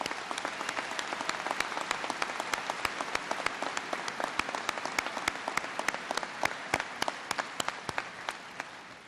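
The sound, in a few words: graduation audience applause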